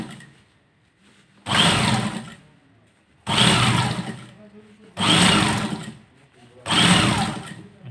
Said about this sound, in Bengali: এটা কাঁচা দিলাম এবার পাকা পাকা সেলাই